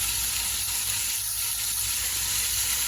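Spices such as turmeric and cumin sizzle steadily in hot oil for a tomato-chickpea curry, a loud, dense, unbroken frying hiss.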